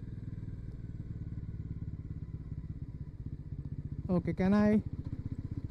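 A 2024 Bajaj Pulsar NS400Z motorcycle engine pulses steadily at low revs in fourth gear at around 35 km/h, with a rider's short spoken question cutting in near the end before the engine rhythm resumes.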